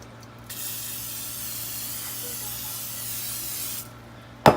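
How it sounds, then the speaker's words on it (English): Steady cooking spray hissing from an aerosol can for about three seconds onto a pan, close and fairly loud, stopping abruptly, followed by a faint click. "I'm now going to spray the pan"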